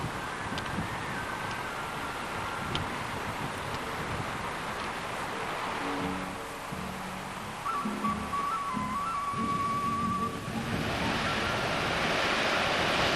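Waterfall on a Belledonne mountain descent near Lac du Domènon: a steady, full rush of falling water with breezy outdoor noise, continuous throughout and swelling slightly toward the end.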